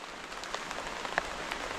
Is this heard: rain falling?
yes